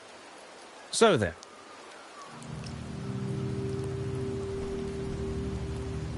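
Steady rain falling in Septimont in the video game Wuthering Waves, a soft even hiss that swells and then holds. A brief sharp tonal chime comes early, and a low droning hum enters beneath the rain.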